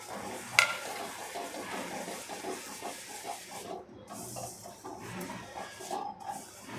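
A sticky mixture of roasted sesame seeds and jaggery for til laddoo is stirred quickly in a pan, giving a steady hiss and soft scraping with one sharp clink near the start.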